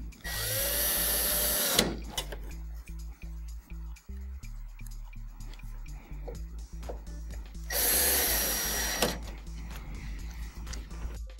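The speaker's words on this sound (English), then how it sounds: "next we're going to put in the T screws to hold the optical block in" Power drill driving T screws into the optical block of a Mitsubishi DLP TV during repair, two loud whirring bursts at the start and again near the end, with clicks and handling noises between.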